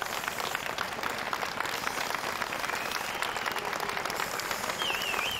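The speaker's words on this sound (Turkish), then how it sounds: "Bombalı saldırı alkış ve ıslıklarla protesto edildi." A crowd at a memorial gathering protests a bombing with steady, continuous applause at a moderate distance, and a short whistle rises above the clapping near the end.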